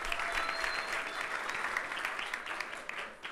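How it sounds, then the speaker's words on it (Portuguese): Audience applause for one of the first reggae writers from Bahia during a class on reggae history, a dense, steady wash of clapping throughout with no break. "Salve de palmas, especial,"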